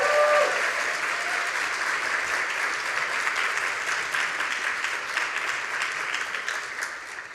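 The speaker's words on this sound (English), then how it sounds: "Can we give her another round of applause?" Sustained applause from a conference audience after a session on online safety, a steady dense clatter of many hands that holds at an even level throughout and tapers only slightly at the end.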